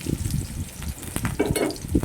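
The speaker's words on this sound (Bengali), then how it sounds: "এখানে আমি কুমড়োগুলো তেলের মধ্যে দিয়ে দিলাম। কুমড়োগুলোকে আমি লাল লাল করে ভেজে নেব।" Pumpkin pieces frying in hot oil for a vegetable dal, giving a steady close sizzle with crackling bursts throughout and no talk.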